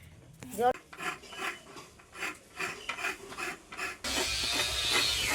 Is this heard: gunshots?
no